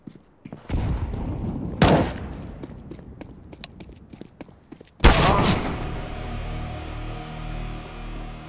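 Counter-Strike: Global Offensive gameplay with sharp bursts of gunfire in quick succession, then a loud grenade-like blast that fades into a lingering rumble, with no talk.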